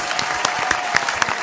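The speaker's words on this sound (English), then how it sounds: "Get a Lord a round of applause real quick" A room of listeners at a church radio broadcast giving a round of applause, dense clapping with a few sharper individual claps standing out, steady and fairly loud for a short burst.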